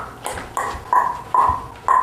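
A voice imitating the clicking of caribou tendons on the walk, making a series of about five sharp, close clicks at a loose, uneven walking pace, heard alone.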